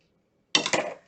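One quick snip of scissors in a home kitchen, two sharp close cuts in fast succession, then quiet, with no voices.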